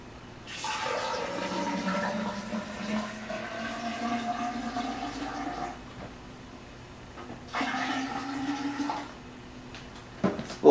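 Liquid poured from a bottle into a dry ice carbonation chamber, a steady gurgling stream with a rising pitch as it fills, a pause, then a second shorter pour ending in a sharp clatter.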